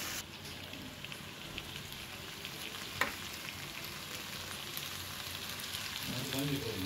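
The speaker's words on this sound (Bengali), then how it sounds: "আলু আর কচু, এটা সুন্দর করে কষিয়ে নেব" Chunks of potato and taro fry in hot oil in a home kitchen, a soft steady sizzle with one sharp clink midway and light stirring noise near the end, quiet and close.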